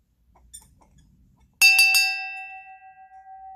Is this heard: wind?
no